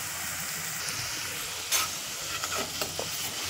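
Modaks deep-frying to a brown colour in hot oil, a steady faint sizzle with a few soft bubbling pops and stirring clinks.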